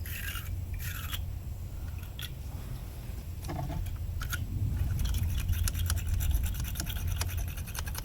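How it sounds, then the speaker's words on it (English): A stiff brush scrapes residue from a battery terminal on a 2010 RAM 2500 truck, in short rough strokes at first, then quicker repeated scrubbing, close and moderately loud. "use this brush and just scrape any remaining that you see as best you can"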